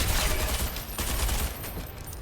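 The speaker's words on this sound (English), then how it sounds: "What is that guy firing?" Sustained enemy gunfire in the video game Selaco on hard mode, a dense rapid burst of automatic shots that stays loud and close for the whole stretch with no talking over it.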